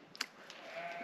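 A sheep bleats once, short and fairly faint, in a shearing setting in Oregon, over a steady background drone.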